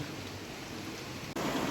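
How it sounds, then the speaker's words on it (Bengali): Steady rain falls outside as a continuous broadband hiss that is briefly interrupted near the end and then resumes at the same level. "পড়েই চলেছে, বৃষ্টি পড়েই চলেছে।"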